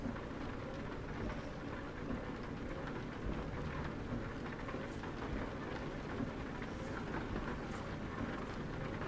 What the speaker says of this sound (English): It's raining, birdie.